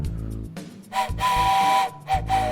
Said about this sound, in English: where's my whistle? Oh dear. Oh, here it is.